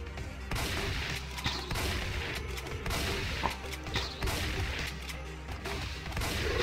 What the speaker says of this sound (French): le fusil à pompe, il fait des dégâts